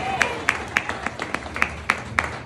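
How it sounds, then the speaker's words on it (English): Scattered audience clapping along at a community event, sharp claps landing in a steady beat roughly every quarter second over a low murmur, with a voice faintly present. "if you're happy and you know it, clap your hands"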